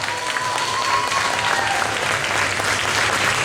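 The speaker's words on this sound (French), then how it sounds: "On peut les applaudir encore une fois." Steady, full applause from an audience at an awards ceremony for a geek convention prize-giving, a continuous wash of clapping with a faint crowd murmur underneath, even in level throughout.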